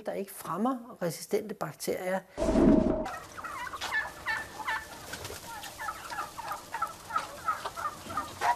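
Turkeys gobbling and chickens clucking on a poultry farm near Goslar that also keeps ducks and geese, several close, busy calls overlapping, with a person talking at the start.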